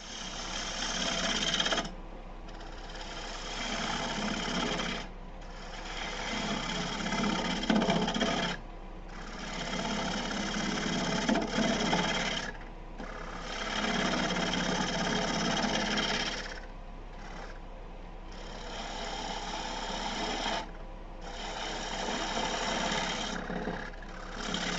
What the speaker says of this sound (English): Take a couple of passes with a bowl gouge